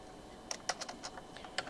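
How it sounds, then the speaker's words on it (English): A command is typed on a computer keyboard: a quick, irregular run of about eight to ten close, crisp keystrokes over a quiet background. "We type in the command show IP route to view the routing table entries"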